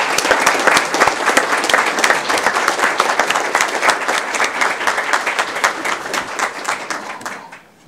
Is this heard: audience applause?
yes